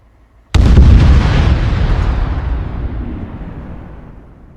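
One sudden, massive bombing explosion in the war video game Arma 3 hits close and loud, then rumbles and decays slowly over several seconds.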